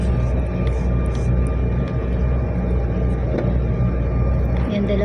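Airplane cabin waiting before takeoff on a Chicago to St. Louis flight: a steady, low engine and ventilation drone fills the cabin, with faint murmuring voices underneath.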